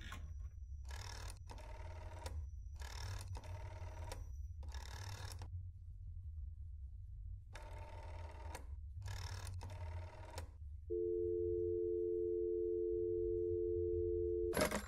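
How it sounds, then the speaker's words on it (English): Telephone keypad being dialed in the horror game That's Not My Neighbor: eight crisp touch-tone beeps in an uneven sequence, then a steady dial tone that holds to the end, over a low background hum. "You know, I never actually called the apartment phone number yet."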